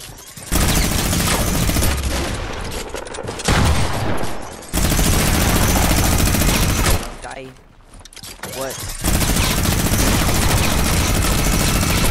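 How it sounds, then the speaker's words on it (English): Sustained rapid minigun fire in the game Fortnite, loud and close, rattling in long continuous bursts with short gaps between them and some voice chat underneath. "I minigun both of them, don't worry."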